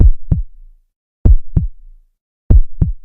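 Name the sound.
heartbeat sound effect in horror story narration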